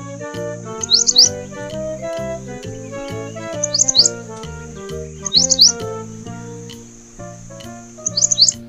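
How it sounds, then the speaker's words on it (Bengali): A bulbul chirps in four short, bright bursts spaced a few seconds apart, riding over a steady, loud children's song accompaniment. "বুলবুলিটির মুখটি কালো"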